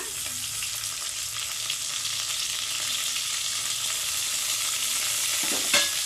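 Capsicum and mixed vegetables fry in a pan, giving a steady, dense sizzle throughout with occasional scraping stir sounds and a brief clatter near the end, close and fairly loud with no talking.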